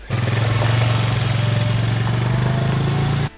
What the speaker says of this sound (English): Corey's headed off to go wrangle some calves for the branding today on a four-wheeler